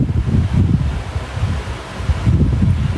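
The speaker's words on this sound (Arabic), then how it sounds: "صوت الهوا، صوت الهوا يا اختي" Gusts of wind buffet a microphone with low, rumbling roars that swell and ease, steady and loud with no voices.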